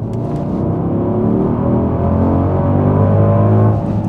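A Mercedes-AMG GLE63 S SUV engine revs hard and steadily, a deep throaty roar rising and holding loud and close for several seconds.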